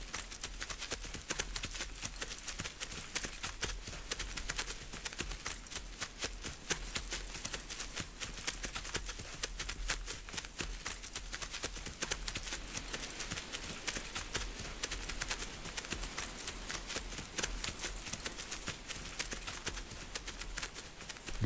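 Hooves of a small Yonaguni horse clip-clop steadily on the Japanese island of Yonaguni, a brisk, even rhythm of close hoof strikes running throughout with no talking.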